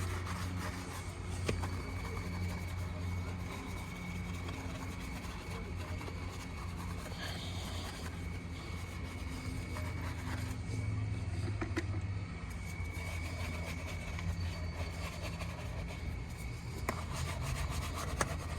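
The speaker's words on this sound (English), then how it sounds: "we do use a bunch of other brushes to really get in there, give the tire a good scrub, and the wheel well, of course." Brushes scrub the tire and wheel well of a Porsche 928 during restoration, giving a steady, faint, close rubbing and swishing under a constant background hum.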